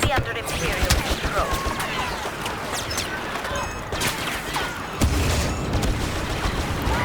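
A grenade goes off in Star Wars Battlefront amid a noisy firefight, with booming blasts and rapid gunfire bursts at close range and someone talking over the action.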